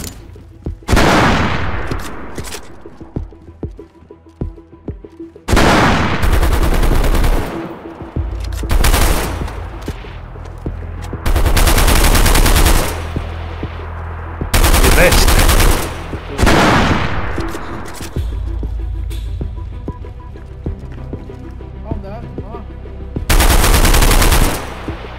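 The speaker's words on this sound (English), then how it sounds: "Is that you shooting?" Bursts of automatic gunfire in the video game DayZ, several loud rapid volleys spread across the stretch with short pauses between them, some nearer and heavier than others, with no talk over them.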